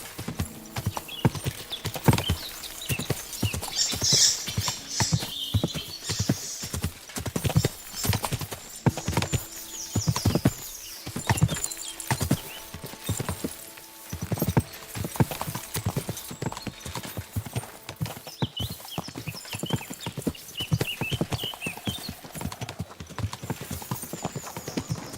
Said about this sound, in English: Ini tuh kudanya jalan santai.